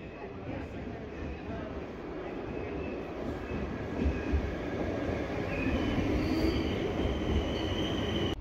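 Steady rumble and rattle from inside a Dutch passenger train riding toward Amersfoort, a continuous low roar of wheels on track with faint squeal, heard close and unbroken throughout.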